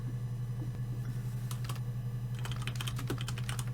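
A few quick taps on a computer keyboard, then a brisk flurry of keystrokes, close but quiet over a steady low electrical hum.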